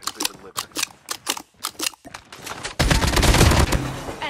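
Gunfire in the Alcatraz mode of a shooter game: a rhythmic series of separate sharp shots, then a louder, denser burst of rapid fire close by that runs to the end.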